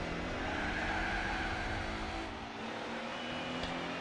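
A race car engine in the Gran Turismo 4 video game roars steadily at high revs, with a brief dip partway through as it shifts gear and then pulls on, loud and continuous with no talk.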